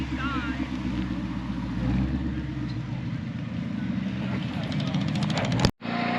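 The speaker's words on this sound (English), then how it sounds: "Here comes the orange R-Spec Mustang as well." An orange R-Spec Mustang rolls out at a car show, its engine a steady low rumble with crowd chatter and voices throughout, ending in a brief cutout near the finish.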